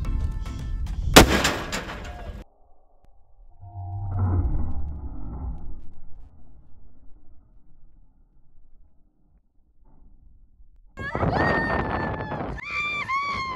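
A cannon firing a 16-pound bowling ball with slow-burning cannon powder lets out a single loud, booming blast, then a low rumbling tail; later voices come in.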